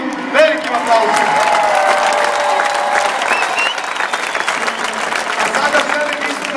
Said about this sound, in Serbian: pozdravite još jednim velikim aplauzom moj tim